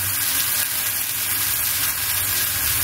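Dried fish and cabbage stalks boil in a pot with a steady, close bubbling and sizzling hiss that runs unbroken throughout.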